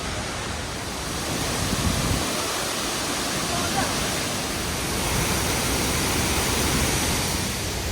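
Ratcharathan waterfall in Chiang Mai, Thailand roars as a steady, broadband rush of falling water, loud and close, holding a constant wash of noise throughout.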